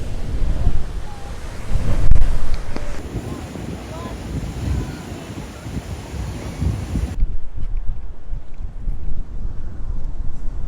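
Ocean waves crash and surge against rough rocks at Devil's Tears on Nusa Lembongan, Bali, Indonesia, as a loud, continuous roar with wind buffeting the microphone and a brief high whine partway through.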